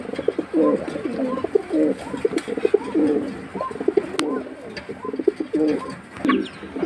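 Pigeons from a breeding pair for sale cooing steadily and close by, a string of soft, throaty rolling calls repeating through the whole stretch over faint background noise, with no talking.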